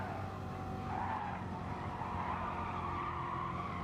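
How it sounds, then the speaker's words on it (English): A high, strained whine of a race car engine in GT Sport, from gears set up inverted, steady and close, with a faint rising pitch and road noise beneath. "It's like a whiny sound because he's inverted the gears."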